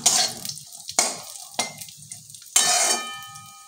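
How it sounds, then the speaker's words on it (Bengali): Cashews, raisins and cardamom frying in a pan, heard as soft sizzling broken by four sharp scraping strokes of a spoon, each fading quickly, close and without talk. "1 মিনিট ভাজা ভাজা করে নিলাম"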